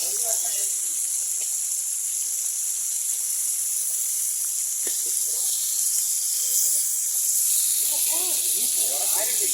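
Pond fish fry in a pan with a steady, loud hiss and sizzle that runs the whole time, with brief faint sounds of movement over the hiss.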